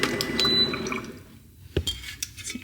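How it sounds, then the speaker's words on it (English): Water is poured into a glass vessel to prepare green tea for whisking. A short, close pour runs first, and a few faint clinks and splashes follow. "I'm not gonna do the full 250 mils of water, just enough so I can start whisking it"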